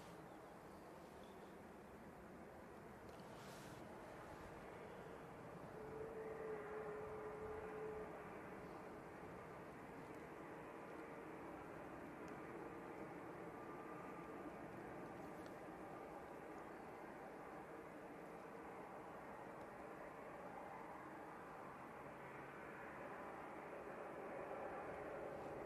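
easyJet airliner on final approach at Manchester Airport, a faint, steady, distant jet rumble and whine that builds slightly, heard from outdoors at a spotting location.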